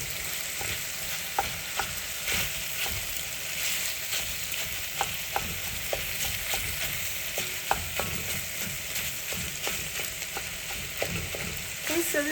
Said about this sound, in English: I was, every couple of minutes, stirring up the vegetables to make sure they didn't stick or burn.